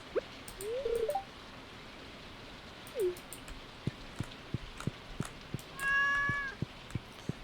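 A cat in the farming game Stardew Valley gives a few short meows, with soft tapping and clicking game effects between them and a bright chime near the end, heard alone without talk.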